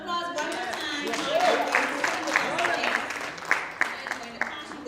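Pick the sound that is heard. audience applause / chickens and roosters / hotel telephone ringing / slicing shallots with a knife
audience applause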